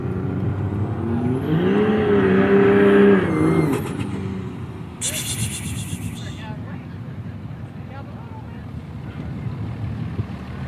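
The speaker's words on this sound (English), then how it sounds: "The diesel getting it done. Here he goes. Hear him spooling up." A diesel truck engine roars close by as its turbo spools up, a rising whine that holds for a few seconds and then drops away into wind noise and road rumble at a hot rod tour.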